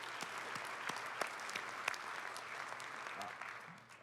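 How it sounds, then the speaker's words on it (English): Steady applause from a convention keynote audience, a dense patter of clapping that holds for a few seconds before tapering slightly. "I think they deserve another round of applause for putting on this meeting."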